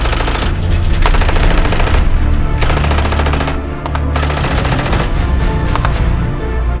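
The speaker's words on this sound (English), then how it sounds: "They all fire their guns" Rapid bursts of gunfire from a group shooting together at an oncoming crowd of the dead, loud sustained automatic rattling with brief pauses between volleys, close and dense.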